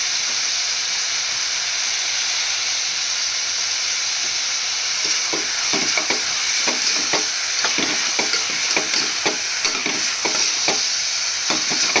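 Onions frying with salt in a pan give a steady sizzle. Partway through, a spoon starts scraping and tapping against the pan in quick, irregular strokes.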